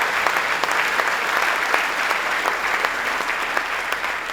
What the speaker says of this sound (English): Give the governor another round of applause